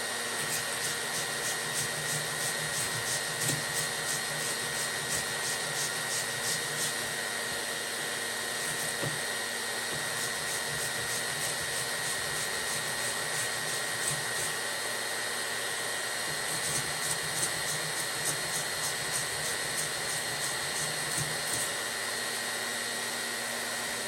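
A VEVOR 1600W hot air tool blows a steady, even rush of air while heating two pieces of Sika plastic for welding, holding close and constant throughout with no speech.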